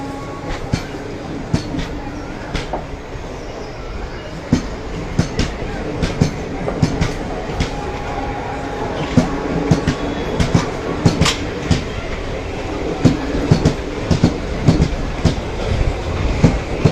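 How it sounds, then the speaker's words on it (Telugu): The Repalle–Secunderabad passenger train rolls out of Chandrur station in Andhra Pradesh with steady rumble and rhythmic clickety-clack of wheels over rail joints, fairly close, with a faint squeal partway through. "రేపల్ల సికింద్రాబాద్ ట్రైన్ సికింద్రాబాద్ బయలుదేరడానికి చంద్రూరు స్టేషన్లో బయలుదేరింది"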